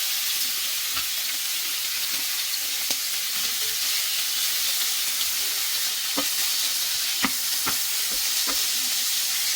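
Pork belly sizzles steadily in a hot pan of its own rendered fat, a continuous loud frying hiss with scattered sharp pops and crackles throughout, no voices.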